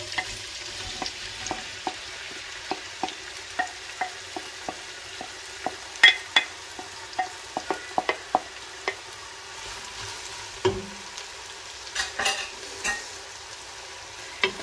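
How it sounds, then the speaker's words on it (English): Onions frying in very hot cooking oil for pilau, with a constant low sizzle under a steady series of spoon taps and scrapes against the pan, then a few louder clatters near the end, close and clear, no speech. "And I'll keep stirring my onions till they become golden brown"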